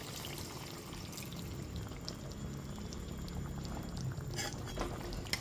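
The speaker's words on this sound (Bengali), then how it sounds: "এরপর এর মধ্যে দিয়ে দিচ্ছি হাফ বাটি পরিমাণ গরম জল।" Half a bowl of hot water goes into a simmering paneer and kasuri methi gravy, making a steady close bubbling, pouring wash that builds slightly toward the end.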